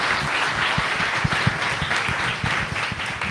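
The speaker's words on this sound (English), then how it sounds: "Let's give them one more round of applause." A meetup audience gives a round of applause after two presenters finish, moderate clapping with individual claps distinct, steady and fairly close without speech.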